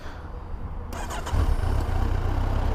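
A 2016 Kawasaki Versys 1000 motorcycle engine cranks and catches about a second in, then settles into a steady, fairly quiet idle close by.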